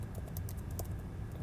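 Someone types on a computer keyboard in quick, uneven bursts of light key clicks, quiet and close with no talking.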